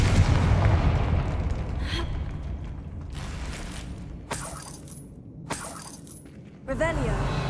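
Confringo spell blasts in the Hogwarts Legacy video game, several sharp bursts with shattering crackles and booming hits spaced a second or two apart, amid game effects and a voice casting the spell.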